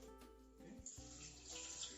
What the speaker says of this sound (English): Now, without wasting time, we're going to add water to this.